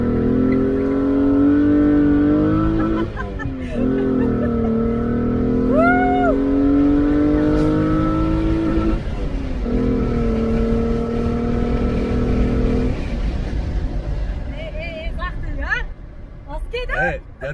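A Golf 4 Cabriolet with a VR6 engine pulls hard along a country road, its engine note rising in long sweeps with shifts between them, loud and close inside the cabin with wind noise.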